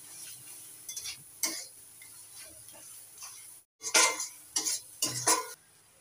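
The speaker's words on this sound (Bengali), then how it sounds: "এবার মশলাটা ভালো করে কষিয়ে নেব" Spice masala with salt and turmeric stir-fried in a pan, soft sizzling under irregular bursts of spoon scraping and clinks against the pan, with a brief gap of near silence midway.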